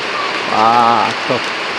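Steady rain patters and hisses close by throughout, with a brief voiced sound and a short murmur cutting in briefly over the wash of falling drops.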